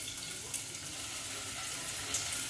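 Onion and carrots sizzling in a pan for mushroom soup, a steady hissing fry with a few small pops and stirring clicks, fairly quiet and close.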